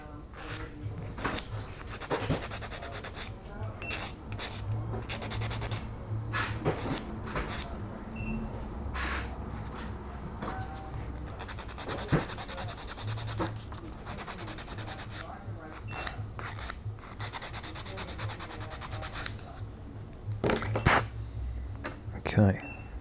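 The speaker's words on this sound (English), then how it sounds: "just need to give this a little bit of a sand first." A plastic edge on a 1/10 scale retro Formula 1 RC car kit part is hand-sanded in short rubbing strokes, close and fairly quiet, with brief taps and clicks between passes and some talking.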